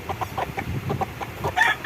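Gamefowl breeding hens cluck in short, repeated bursts close by, several birds overlapping in a busy farmyard chatter with no one speaking.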